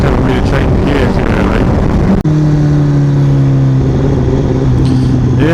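A 2016 Honda CBR1000RR Fireblade sportbike engine pulling hard while riding, loud and close with rising revs, a brief cut at a gear change, then a steady droning pull under wind noise.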